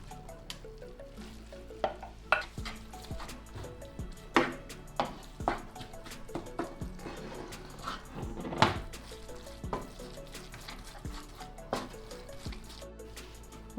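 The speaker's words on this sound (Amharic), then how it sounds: "ከዛ እዚህ ጋርም ደግሞ ስጋውን ጨምራለሁ።" Meat goes into a pot of cabbage cooking in spiced butter with korerima and salt, making a steady quiet sizzle under repeated knocks and scrapes of stirring and clatter of utensils, with no voices.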